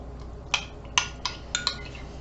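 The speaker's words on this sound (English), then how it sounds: "I got my chili right here in my special cup, and then I mix it up" A spoon taps and clinks inside a cup of chili as it is mixed, five sharp, close, bright clinks at uneven intervals over a quiet background.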